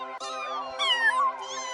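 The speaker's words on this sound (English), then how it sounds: "A few kittens come forward and perch themselves on the chairs around you, watching your sinking body, mewing as they wait" Kittens mew in three distinct high, drawn-out calls, close and clear, separated by brief quiet gaps.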